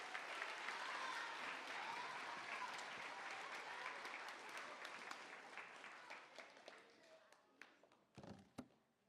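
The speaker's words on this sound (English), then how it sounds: "So can you all lend them courage with a round of applause and welcome them?" A school assembly audience of children and adults applauds to welcome the announcers: dense clapping that thins and fades out, leaving scattered last claps and a couple of taps at the end.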